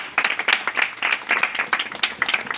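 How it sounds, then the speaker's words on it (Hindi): A small congregation at a church sermon claps in a short, sparse burst, individual hand claps distinct and irregular rather than a dense roar, close and fairly loud with no talk over it. "इनके लिए तालियां हो जरा"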